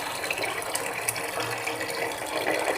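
Kitchen vessels are washed under running water, a steady close splash and trickle with light clinks and scrapes of metal pots throughout, no voices.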